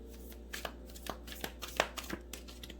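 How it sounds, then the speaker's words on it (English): Tarot cards being shuffled by hand, a quick run of soft riffling and slapping taps, close and fairly quiet. "I need like someone with big hands to come and shuffle these cards for me."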